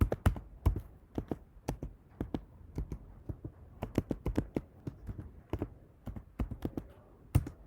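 Someone types a command on a Mac computer keyboard, a run of irregular close key clicks and taps with short pauses and no talk.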